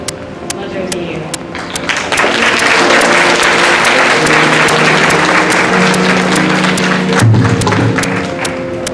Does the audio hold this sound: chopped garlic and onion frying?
no